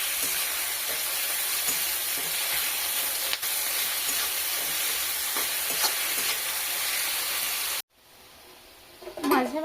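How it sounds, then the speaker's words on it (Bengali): Onions for biryani birista stirred constantly on high heat, a loud continuous frying hiss with spatula scrapes, cutting off near the end to a quieter moment with a brief clatter. "হাই হিটে এটাকে অনবরত নাড়াচাড়া করে তৈরি করে নেব বেরেস্তাটা"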